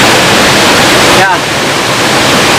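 Steady broadband rush of water from the Curug Sentral waterfall, a constant loud roar filling the whole clip with a brief dip midway.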